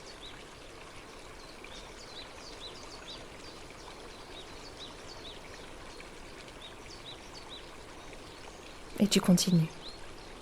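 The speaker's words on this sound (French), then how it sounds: "Le bruit de l'eau change encore. Ce n'est plus seulement celui d'une rivière." A mountain river flowing with a steady, broad rush of water that holds evenly throughout, with a short spoken phrase near the end over the stream.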